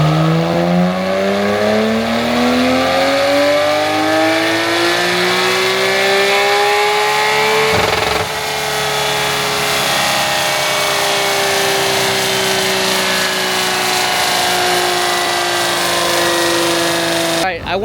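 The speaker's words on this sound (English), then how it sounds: "So we got the car warming up right now." A Porsche race car engine idles while warming up before a club race, a loud steady drone with slowly rising pitch that dips briefly around the middle, then holds high and even until a sharp cutoff at the end.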